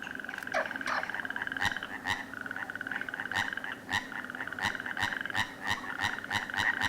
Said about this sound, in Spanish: Una rana y un sapo partero.